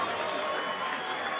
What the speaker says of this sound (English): please give both fighters a round of applause for 12 exciting rounds of championship